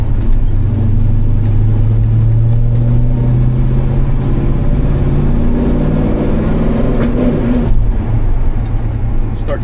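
A car engine under load pulls through a gear, the low drone climbing steadily in pitch as it accelerates, then easing off near the end with a brief lift in the throttle; loud and close, no talk.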